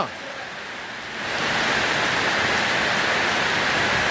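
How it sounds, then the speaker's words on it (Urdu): Heavy rain pours down in Saddar, a dense, loud, continuous hiss that swells after the first second and then holds steady. "یہ دبا کے بارش ہو رہی ہے جی"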